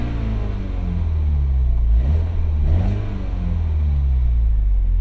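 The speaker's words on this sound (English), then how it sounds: "when you put it in sport mode, you can hear that the exhaust changes a little bit" A 2021 Toyota Supra 2.0 in sport mode gives a deep, close exhaust rumble as the engine is revved, swelling twice in quick succession before settling back to a steady throaty idle.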